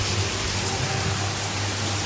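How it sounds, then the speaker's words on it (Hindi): Heavy rain pours steadily and loudly, a dense, even hiss of downpour filling the whole clip close by, with a low hum beneath and no clear speech. "देखिए कितनी तेज़ बारिश है, मैं तो पूरी भीग जाऊंगी।"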